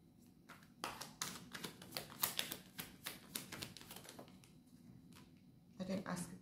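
Tarot cards are shuffled by hand in a run of quick, crisp, papery taps and riffles, close and quiet, with brief pauses between bursts.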